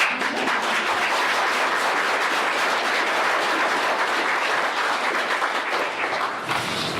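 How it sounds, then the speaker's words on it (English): An audience at a running clinic claps steadily throughout, a dense even wash of applause at moderate loudness with no voices on top. "I think we should give them a round of applause."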